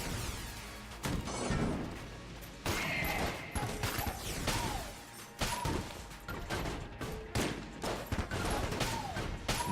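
Gunfire from the video game Enter the Gungeon: rapid, dense volleys of shots with crashes and mechanical clatter, continuing almost without pause, loud and close.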